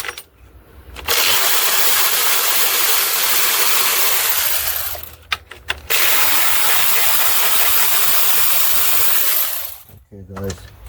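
A power tool whirs steadily while it backs out the intake manifold cover screws on a 2009 Dodge Journey 3.5L AWD. Two long runs are split by short pauses and a few small clicks.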